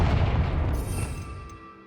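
A Confringo fire spell detonates in Hogwarts Legacy, a deep booming explosion that hits loud at once and rumbles away over the next second or two, heard alone without speech.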